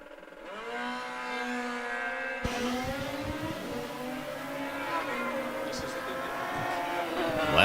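An old school Kawasaki KZ and a Suzuki Hayabusa drag racing side by side at the strip, their engines screaming in rising, overlapping revs as they launch and pull hard down the track, with an announcer talking over the roar.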